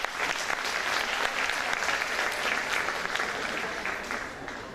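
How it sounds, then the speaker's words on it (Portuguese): An audience at a genetics and breeding symposium claps loudly and continuously, a dense burst of applause that holds steady before tapering slightly at the end. "dá uma salva de palmas para o Rodrigo."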